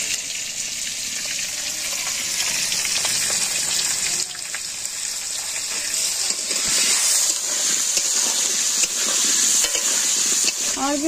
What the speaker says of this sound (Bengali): আলু ভালোভাবে ভাজা হয়ে গেছে একদম পুরো লাল লাল করে